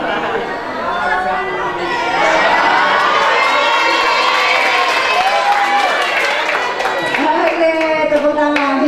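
At an Islamic boarding school anniversary gathering, a crowd of children cheers and shouts loudly with scattered clapping, a dense sustained roar of young voices close by.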